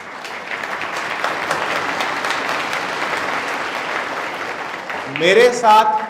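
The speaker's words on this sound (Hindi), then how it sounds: "उनके लिए आपकी तालियां भी कम पड़ जाएंगी" Audience applause at a blood donation camp, a steady sustained clapping from a seated crowd for about five seconds, with a voice breaking in over it near the end.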